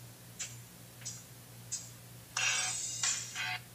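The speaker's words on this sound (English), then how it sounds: "And now it's your ringtone." A mobile phone ringtone plays as a few short electronic chirps at even intervals, then a denser burst of bright tones, clear and fairly close over a low steady hum.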